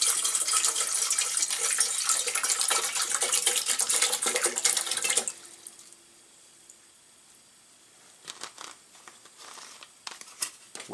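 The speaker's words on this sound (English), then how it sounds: "let's get this water poured into this pot" Twenty ounces of water pours into a pot for a boil test on a Coleman butane single-burner stove, a loud splashing gush for about five seconds, then quiet with a few small clinks and handling knocks.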